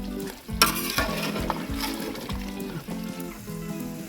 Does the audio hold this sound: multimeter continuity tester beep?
no